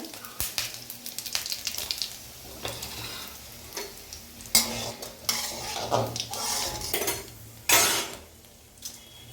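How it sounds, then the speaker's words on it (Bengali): Mustard oil with radhuni and coriander seed tempering sizzling in a hot wok, with frequent metal clinks of a spatula and utensils against the pan over a steady crackle, loud and close. "কড়াইটা একটু গরম হয়ে গেলে এর মধ্যে আমরা সর্ষের তেল দেব, পরিমাণ মতন রাঁধুনি ফোড়ন, ধনে ফোড়ন"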